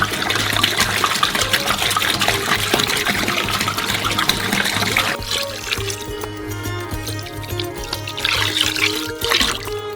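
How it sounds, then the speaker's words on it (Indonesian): Leftover water poured into a cocoa mixture in a basin, a steady trickling pour running throughout with a brighter splashing start, close by and alone. "Saat semuanya sudah tercampur rata, tuangkan air yang tersisa."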